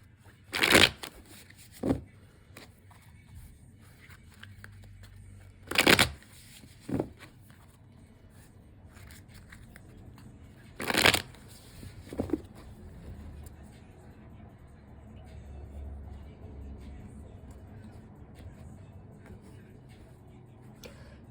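Tarot cards being shuffled by hand: a few sharp, crisp riffle bursts at uneven intervals, close up, with soft handling rustle and low background rumble between them.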